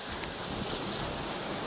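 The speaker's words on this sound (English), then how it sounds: "just going to try and give you an idea what it's like sailing at night" A sailboat under way at sea at night gives a soft, continuous wash of water and wind, faint and even throughout with no voices.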